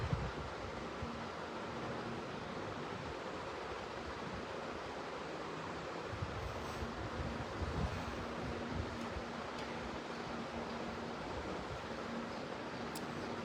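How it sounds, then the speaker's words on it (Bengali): Strong wind roars continuously, a dense, steady rushing noise buffeting the microphone with no voices. "আজকে অনেক বাতাস, মনে হয় বৃষ্টি আসবে।"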